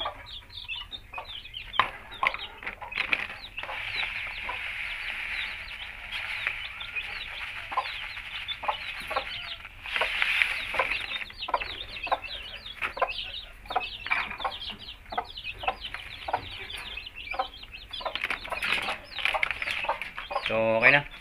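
Hens and young chicks cluck and peep steadily throughout, a busy chorus of fowl calls with no talking.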